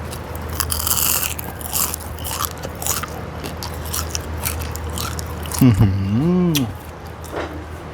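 Crunchy bites into crispy, freshly fried food, several crisp crunching and chewing sounds close to the mic, with a voice talking over parts of it.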